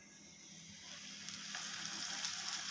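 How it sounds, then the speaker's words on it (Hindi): Chapli kababs made from Qurbani meat shallow-fry in a little oil over a low-medium flame, giving a soft, continuous sizzle that grows slightly louder, with a few faint clicks and no talking. "हमने इसको शैलो फ्राई करना है, बहुत ज़्यादा नहीं हम इसमें ऑयल डालेंगे। और लो मीडियम फ्लेम पर हम इसको फ्राई करेंगे।"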